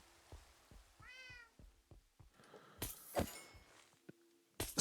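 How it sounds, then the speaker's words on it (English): A pet cat meows in a short rising-falling call near the start, followed by scattered thumps and rustling handling noises nearby, with a couple of louder bursts toward the end. "That was your cat?"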